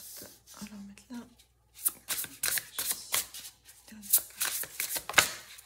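Oracle cards being shuffled and drawn by hand, giving soft papery riffles and flicks in short bursts, with a person talking between them.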